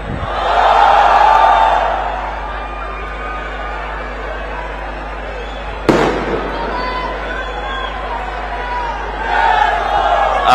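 A large, noisy crowd cheers and roars at a political speech, a loud continuous wash of voices with louder swells at the start and end and a sharp burst near the middle.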